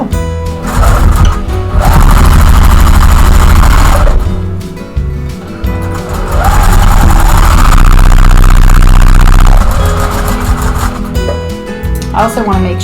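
A sewing machine stitches quilt block seams for a Pieceful Basket block, running steadily in two long, loud bursts with short pauses between, the motor hum strong and continuous.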